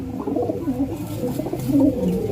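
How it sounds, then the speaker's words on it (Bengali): A pure Dhandawala pigeon, a Punjabi breed, coos close by in a steady string of low, rolling, throaty calls that carry on without pause and with no voices over them. "এইটা পিওর ধান্দাওয়ালা পায়রা"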